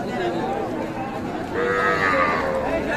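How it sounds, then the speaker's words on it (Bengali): Crossbred bulls lowing nearby at a busy outdoor cattle market, a drawn-out moo rising over the background chatter of a crowd. "এক জোড়া গরু"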